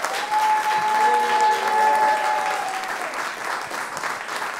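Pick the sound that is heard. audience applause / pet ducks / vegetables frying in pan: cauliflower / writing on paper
audience applause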